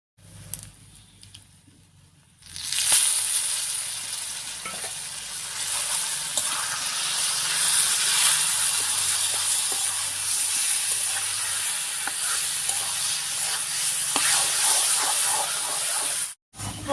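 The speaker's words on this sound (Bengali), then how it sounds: "এবারে জল ঝরিয়ে রাখা কচু শাকটা দিয়ে দিচ্ছি।" Drained taro leaves drop into a hot tempering of garlic, nigella seeds and green chilli, setting off a sudden loud steamy hiss after a quiet start that holds steadily, with faint scraping ticks, until a brief cut near the end.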